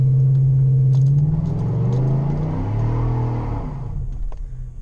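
A tuned car tuned with a Diablosport Trinity pulls out onto the road, its deep engine rumble close and loud, revs rising and shifting before easing off.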